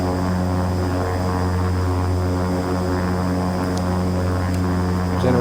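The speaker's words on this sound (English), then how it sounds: "Use that high idle to start the number 1 engine." A turboprop engine, number 1, spools up from high idle in the X-Plane 11 flight simulator, with a loud, steady, droning engine hum and propeller whine filling the whole stretch and no voices over it.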